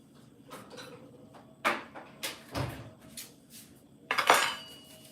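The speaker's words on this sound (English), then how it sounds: "To do that, I have to smash the shrimp good." Shrimp gets smashed with a utensil in a bowl for shrimp burgers, a few irregular clattering knocks and scrapes, the heaviest in a loud cluster near the end.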